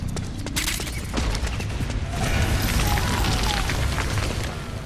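Gunshots in Metal Gear Solid 4 as lights are shot out, a series of sharp close cracks followed by booming impacts and rattling debris, with a short pause between volleys.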